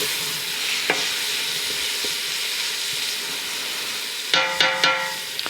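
Garlic sizzles in a hot pan with a steady frying hiss, broken by a few sharp utensil clinks and a brief louder stir near the end.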